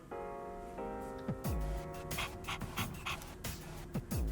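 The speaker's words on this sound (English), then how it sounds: "Kodomaru seems to be panting heavily." Koromaru, a dog in the video game Persona 3, pants heavily in quick rhythmic breaths with small whimpering tones, close and fairly quiet, alone over faint game music.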